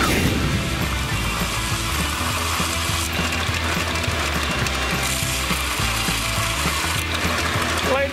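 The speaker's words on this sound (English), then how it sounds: "So I'm gonna go over on my belt sander and I'm gonna try to sand that down" A belt sander grinds down a laminated part from a rare horizontal/vertical mount Briggs & Stratton engine, a loud continuous rasping roar with rattling, clattering mechanical texture throughout, close and without speech.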